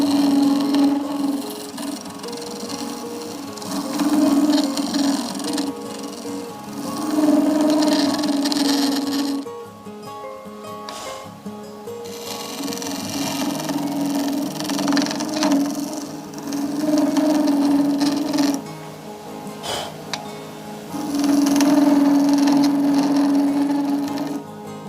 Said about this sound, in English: Then I'm just going to go in here and give this all a little bit of a scrape.